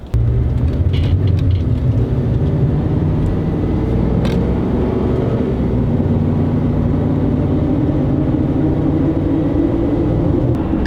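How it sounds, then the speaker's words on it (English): BFG Mud Terrain KM3 tires on a vehicle driven at about 45 mph give a continuous low road rumble and drone, steady and fairly loud from start to finish, with no talking. "I'm just going to drive down the road. Speed limit's about 45. So I'm just going to see how loud the tires get at that point."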